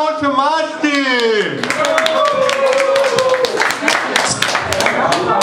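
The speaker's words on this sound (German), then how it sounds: "Viel Spaß und Applaus für Mastee!" A pub audience at a bar's birthday night breaks into applause for a beatboxer, clapping loudly for several seconds right after a voice finishes speaking.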